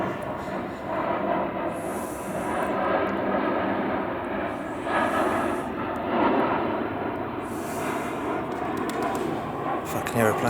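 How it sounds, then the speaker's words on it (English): Continuous low roar of a propeller airplane passing overhead, swelling and fading slightly over several seconds, loud and filling the background. "let me wait for that fucking plane to go over"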